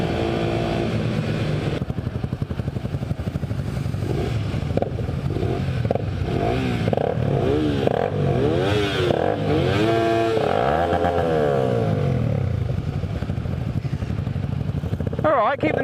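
A motorcycle drifting on a wet road in the rain, its engine droning and rising and falling in pitch with repeated revving sweeps, loud and close throughout, with voices and road noise mixed in.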